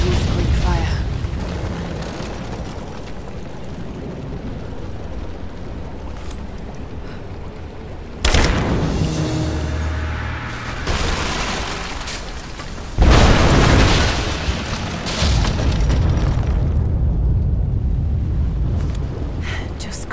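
Greek fire detonations in Rise of the Tomb Raider, two sudden loud explosive bursts several seconds apart, each trailing into rumbling debris over a steady low ambience.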